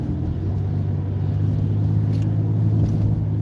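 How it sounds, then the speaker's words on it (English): Steady low engine rumble and road noise inside a car stuck in traffic, a constant drone that stays loud and unbroken throughout with no voices. "There's nothing we can do about this traffic."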